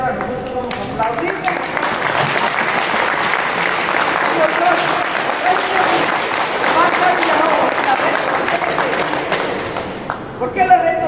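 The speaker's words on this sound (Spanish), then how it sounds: "Ahora nosotros vamos a aplaudir." An audience applauds at the presentation of a lucha libre wrestling show, Reyes del Ring. Loud, continuous clapping and crowd noise go on for about ten seconds, with brief voices at the start and end.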